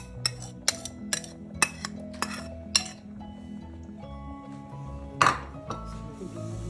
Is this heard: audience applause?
no